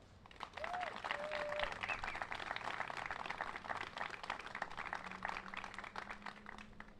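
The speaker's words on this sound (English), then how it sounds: "Can we get a round of applause for Mike Mueller?" A crowd at an outdoor groundbreaking ceremony for a mill rehabilitation project claps for a speaker, individual claps audible within a steady round of applause that holds for several seconds.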